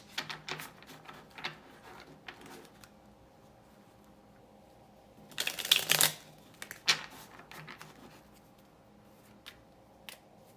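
Tarot cards riffled in a quick, crisp burst around the middle, with scattered soft taps and flicks of handled cards before and after in a quiet room.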